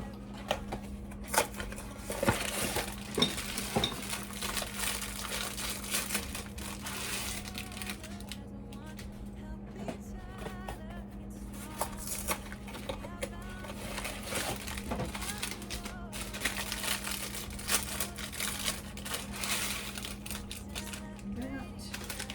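Three packets of rice are emptied into a cooking pot. A continuous, grainy crackle and patter of pouring grains and crinkling packaging runs over a steady low background hum.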